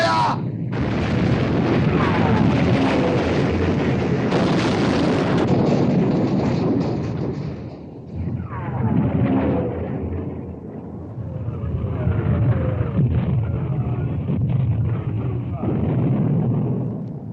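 Warship guns fire in a 1960 naval battle film, with loud, sustained blasts and rumbling that fill the track, broken by a brief lull, then heavy roaring resumes with shouted commands mixed in.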